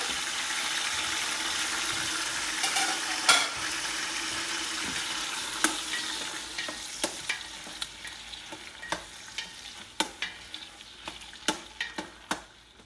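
Six cloves of garlic frying in a pan for chicken biryani, a steady close sizzle. A spoon scrapes and taps repeatedly, and the taps grow more frequent toward the end.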